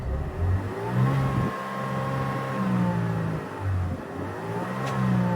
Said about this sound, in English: I feel like there is some ticking noise when when you rev like high.